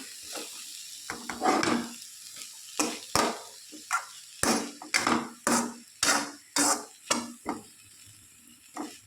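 Banana flower fries in a pan while a spoon stirs it in about a dozen sharp, rhythmic scraping strokes, close and distinct, with a soft sizzle between them.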